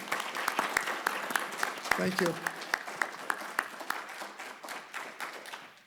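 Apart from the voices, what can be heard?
audience applause for forum candidates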